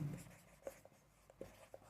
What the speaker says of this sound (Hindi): तो यहाँ पे हम लोग लिख लेंगे